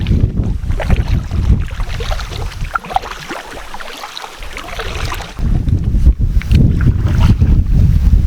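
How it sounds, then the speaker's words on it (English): Canoe paddling on the River Slea: loud close splashes and water churn from oars, mixed with heavy wind buffeting the microphone, uneven in rhythm with a quieter lull midway. "the amount of noise I'm making with the oars splashing and paddling"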